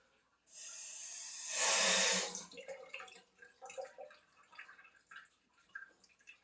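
Water pours in a steady splashing stream for about two seconds onto microgreen growing medium, followed by faint trickling and drips.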